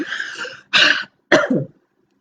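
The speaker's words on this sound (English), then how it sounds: "Didn't mean to make myself cough." Three close coughs, a rough throaty one followed by two sharper bursts, alone with silence after.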